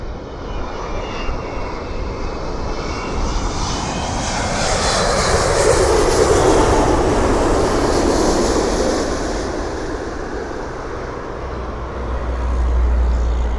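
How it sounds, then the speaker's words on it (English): Jet airliner roaring past at Toronto Pearson airport on a hazy day, a loud continuous rumble that swells to a peak midway and stays strong with jet blast, with no talking. "I'm getting that jet blast now."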